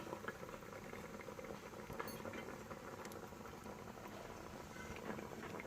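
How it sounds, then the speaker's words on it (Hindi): Chicken gizzards cooking in about a quarter kilo of oil in a pot, dhaba-style kaleji, give a steady, dense bubbling crackle that continues evenly throughout, close and moderately loud with no talking. "और इसको अच्छी तरह से हम भूनेंगे।"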